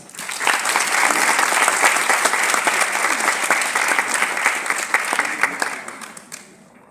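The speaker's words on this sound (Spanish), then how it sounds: "Recibámosles con un fuerte aplauso" A conference audience at a poetry lecture gives a loud, sustained round of applause to welcome the speaker, even dense clapping that tapers off in the final second.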